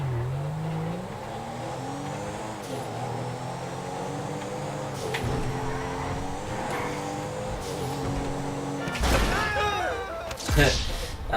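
Wheels spin and tires squeal as a turbocharged Porsche-style sports car revs in Grand Theft Auto 5 on the PS3, with a steady engine drone and a couple of sharp bursts near the end, under commentary.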